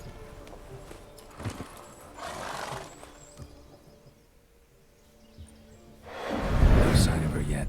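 Roach, Geralt's horse in The Witcher 3: Hearts of Stone, snorts and shifts with scattered hoof sounds, and a louder burst of breath or whinny comes near the end, all close and set against quiet ambience.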